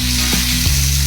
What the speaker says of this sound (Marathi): एक बाजू भाजली तर पलटी मारते. दुसरी पण बाजू फ्राय झाली.